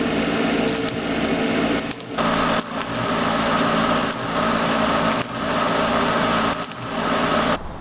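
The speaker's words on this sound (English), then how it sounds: "I have a 3/32 inch rod, welding rod, 6013 rod" Stick welding with a 3/32 inch 6013 rod to fill a hole in a Chevy squarebody valve cover, a loud steady crackling buzz in several bursts of a second or two, broken by short pauses between passes.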